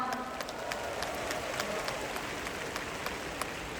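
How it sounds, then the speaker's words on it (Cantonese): Faint, distant applause from a concert crowd at a Po Leung Kuk charity concert in Hong Kong, a soft continuous patter of many hands with a few sharper claps standing out. "俾啲掌聲你哋自己先好唔好啊"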